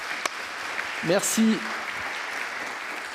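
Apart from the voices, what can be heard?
audience applauding Stéphane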